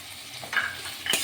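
Onion, ginger and garlic fry in a pan, with a soft steady sizzle and a couple of brief scraping stirs, close and fairly quiet.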